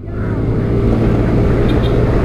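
A turbocharged Yamaha NMAX scooter carrying a heavy passenger load accelerates along the road, its engine a loud, steady, close drone that builds without a break.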